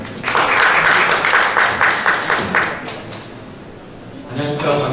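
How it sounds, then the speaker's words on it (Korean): An audience at a conference presentation claps for a few seconds, a dense burst that gradually fades before a voice begins speaking. "박수 부탁드리겠습니다"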